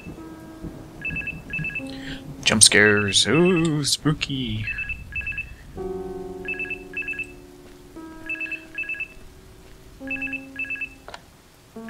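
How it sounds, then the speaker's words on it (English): Telephone ringing in the horror adventure game Charnel House Trilogy, repeated trilling bursts in a steady on-off rhythm that continue after a short musical swell, with a voice talking over the start. "Phone's ringing."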